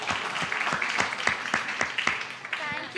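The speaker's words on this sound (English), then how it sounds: "Big round of applause for all the children for their wonderful portrayal of the associates of Nityananda Prabhu." A crowd claps and applauds for children after their stage portrayal of the associates of Nityananda Prabhu at a Hare Krishna temple festival, steady dense clapping throughout.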